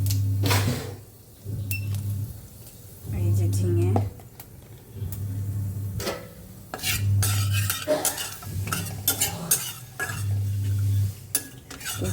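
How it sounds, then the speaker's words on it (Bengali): Ridge gourd curry stirred in a pan after a five-spice tempering, repeated bursts of metal spoon scraping and clinking against the pan in a regular rhythm, with quieter gaps and occasional sizzle between strokes. "পাঁচ ফোড়ন ফোড়ন দিয়ে দিলাম"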